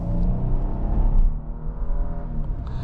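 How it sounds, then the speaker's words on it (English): A 2025 Nissan Armada PRO-4X with a twin-turbo V6 accelerates hard, its loud, throaty engine note swelling steadily from inside the cabin, with a brief dip midway before the engine pulls again. "Twin turbo V6 acceleration is really impressive"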